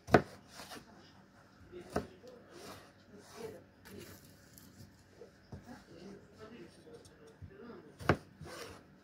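Kitchen knife chopping ingredients for fried eggs with tomato and cheese on a board, a few sharp separate knocks spaced a couple of seconds apart with soft rubbing and handling sounds between, fairly quiet and close.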